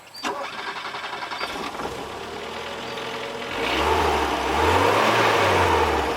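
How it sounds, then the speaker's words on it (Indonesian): A 1983 Peugeot 505 GR is started: a starter cranks briefly, then the engine catches and settles into a steady, close idle with a low, throbbing rumble that swells slightly later on. "Dan suaranya mobil dahulu adalah cek jreng."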